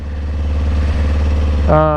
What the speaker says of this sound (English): since it's in sport mode, the engine comes on immediately